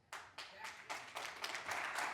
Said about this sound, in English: If we could limit the clapping, please.